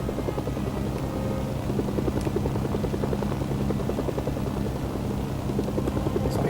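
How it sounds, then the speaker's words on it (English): Helicopter in the Mercenaries video game, a steady rotor buzz with rhythmic blade chop running continuously and loudly for several seconds, with no talk over it. "I can actually pick up a helicopter here."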